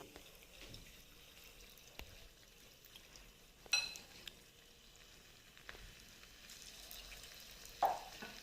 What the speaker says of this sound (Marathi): आता आपण हे तळायला ठेवूयात, एक एक टाकूयात बघा तुम्ही.